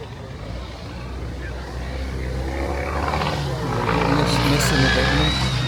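A racing engine at Prescott hill climb roars and slowly builds in loudness, running slightly rough and uneven, with people talking over it.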